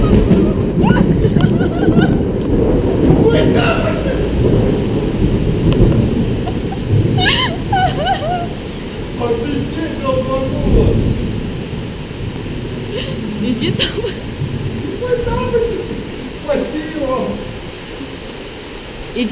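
Heavy thunderstorm with rolling thunder and steady loud rain, a broad continuous roar with booming swells, while voices talk intermittently over it.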